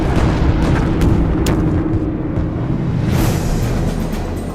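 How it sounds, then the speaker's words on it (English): Anti-aircraft artillery fire rumbles through a wartime documentary about the Korean War, a loud, continuous low barrage with several sharp blasts punching through the steady roar. "The Sabres must run a gauntlet of deadly radar-controlled anti-aircraft artillery to get across"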